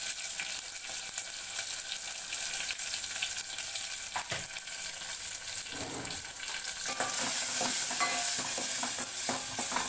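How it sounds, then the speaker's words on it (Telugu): Chopped tomato with green chilli and ginger fries in a pan for ginger lemon rasam, a steady soft sizzle with occasional scraping stirs and clinks, continuous and close. "ఇప్పుడు టొమాటో కొద్దిగా మగ్గే వరకు ఫ్రై చేసుకుందాం"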